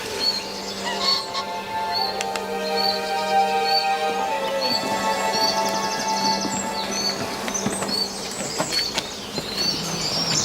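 A Cetti's warbler sings near young crack willow, bright abrupt bursts of loud song standing out over a busy background of other birds and insects, with no talk.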